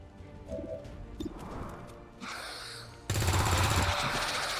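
Gunfire in the video game XCOM 2, a sudden loud burst of rapid shots breaking in after quieter game sounds and effects, close and dense, with no talking.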